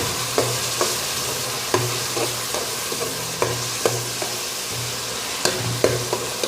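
Snakehead fish head frying in a little oil, the sizzle steady and close with repeated sharp scrapes and clacks of a spatula turning it, no talking.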